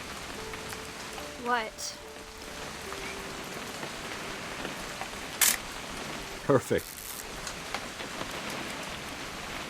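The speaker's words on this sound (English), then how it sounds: "It's gonna rain the whole weekend, isn't it?" Steady rain falls throughout a rainy hunting-trip scene in the video game What Remains of Edith Finch, a soft continuous wash with a couple of brief clicks and short spoken remarks over it.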